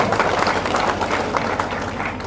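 Loud, sustained applause from a crowd at a political party joining event, dense steady clapping filling the whole stretch without a break.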